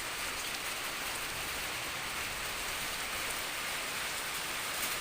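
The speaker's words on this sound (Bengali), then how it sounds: "আমার তো খুবই ভালো লাগে এমন বৃষ্টি হলে" Steady rain falls in a dense, even hiss that holds at the same level throughout, with no voices over it.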